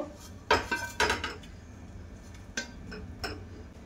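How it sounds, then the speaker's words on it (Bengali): Freshly cooked dough for chicken puli, still warm, is scraped from the pan onto a plate, giving a few sharp, close clinks of a utensil against crockery, spaced out with quiet gaps between and no talking. "এবার আমি একটা প্লেটে ঢেলে নেব"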